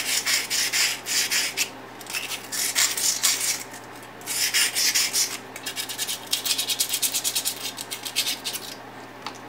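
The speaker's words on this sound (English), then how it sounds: "just take a couple of pieces of silicon carbide sandpaper and go around the edges" Silicon carbide sandpaper rubbing around the cut edge of a glass bottle, close, raspy scratching strokes in uneven bursts with short pauses, no voices.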